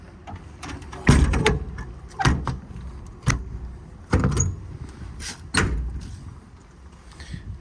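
Heavy-duty Eberhard center grip drawers on a 2013 International mechanics crane truck slide and clunk shut about five times, each a loud sharp metallic knock with a short rattle, close and without talk.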